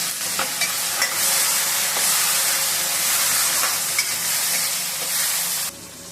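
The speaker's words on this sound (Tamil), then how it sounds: "பார்த்தீங்களா, தக்காளி வெங்காயம் நல்லா வதங்கிச்சு" Tomato and onion sauté in oil in a pan for a sundakkai kara kuzhambu, producing a loud, continuous close-up sizzle with occasional soft stirring taps, and no talking.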